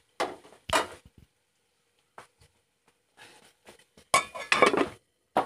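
A metal spoon scrapes and clinks against a cooking pan while shrimp are stirred with chili spices, giving several sharp, irregular metallic taps and scrapes separated by quiet gaps.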